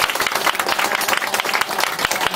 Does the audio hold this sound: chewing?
no